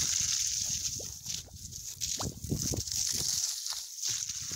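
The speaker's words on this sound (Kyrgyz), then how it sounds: "Мына агып аткан суу." Water flows from an irrigation hose into a ditch, a steady hiss of running water with gurgling, sloshing bursts, close and continuous.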